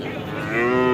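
An HF cross-breed cow moos once at a cattle market in Alephata, a single close, loud, drawn-out low call that swells toward the end.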